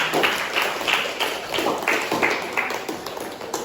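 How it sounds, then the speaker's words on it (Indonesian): Students in a classroom clap together in a rhythmic pattern, a series of sharp, evenly spaced bursts of group handclaps at close range. "Kasih tepuk tangan untuk kita semua"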